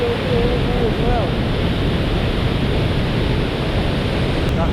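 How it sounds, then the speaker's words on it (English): A waterfall on a snowy hike roars as a dense, steady wash of noise that stays loud and unbroken, with a brief faint voice early on. "You got that waterfall as well."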